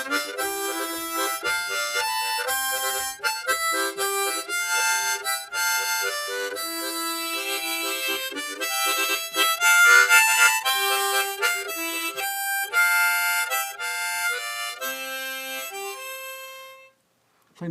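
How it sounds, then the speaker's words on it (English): A harmonica plays a fast old-time tune with tongue blocking, rapid rhythmic chords and chopped notes pulsing steadily for most of the passage, close and solo, ending in a brief silence. "then you can start noting it with your tongue like I do."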